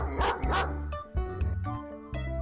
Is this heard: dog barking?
yes